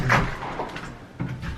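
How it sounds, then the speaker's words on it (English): A door to a garage off a small foyer in a Florida resort rental home is pushed shut, a short close thud and rattle with brief faint movement after. "So let me just shut the door."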